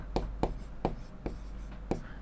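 Numbers are written on a board in a math lesson, making five distinct scratchy strokes at a steady rhythm, close and quiet, with no talk.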